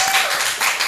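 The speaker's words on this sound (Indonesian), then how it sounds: "Tepuk tangan untuk kalian." A brief burst of clapping from a podcast audience sounds close and fairly loud, in quick uneven waves over about a second.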